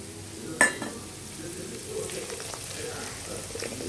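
Mustard seeds and dried red chillies sizzling in hot oil for tomato pachadi, a steady crackling hiss close by, opening with a sharp clatter and then settling into continuous frying.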